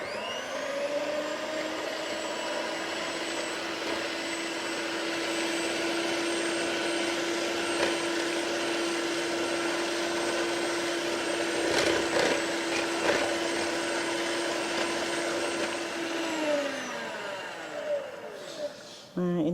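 An electric mixer whisks instant custard powder with ice water, giving a steady, loud whirring motor drone that holds for about seventeen seconds before winding down, with a few faint knocks along the way.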